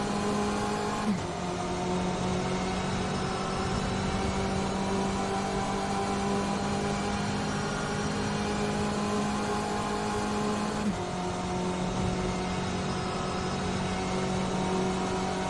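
A GTE race car at full speed along a long straight of Circuit de la Sarthe in a Le Mans racing game, a loud sustained engine whine that climbs in pitch, broken by a quick gear shift or two.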